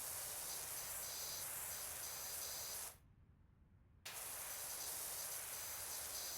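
Pressure washer spraying in the video game Power Wash Simulator, a steady broadband hiss that cuts out for about a second midway and then resumes just as loud.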